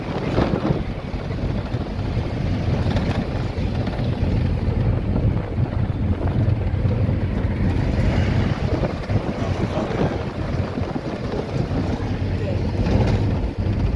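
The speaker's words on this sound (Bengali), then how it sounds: "সাউন্ডটা কম লাগছে, কিন্তু প্রচুর হাওয়া দিচ্ছে" Strong wind buffets the microphone while travelling near Kolkata's second bridge on the way toward Shalimar station, a loud continuous roar with low rumble and no pauses.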